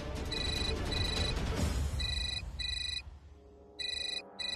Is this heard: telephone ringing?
yes